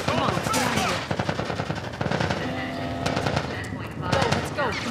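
Rapid bursts of automatic gunfire crackle through a firefight in The Last of Us Part I, with shouting voices talking urgently over the shots.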